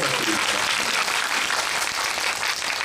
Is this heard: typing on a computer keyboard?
no